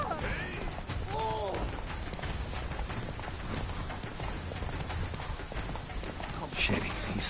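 Horse hooves gallop in The Witcher 3 on PS4, a steady run of hoofbeats under constant game ambience, with voices and music-like tones over it.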